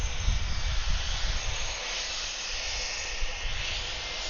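Airliner taking off at Atlanta airport, a broad steady jet roar with hiss and low rumble, loud and sustained throughout with no talk.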